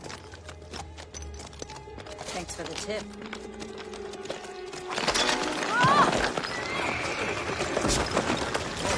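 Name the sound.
horse hooves on rocky ground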